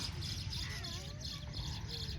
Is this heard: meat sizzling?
no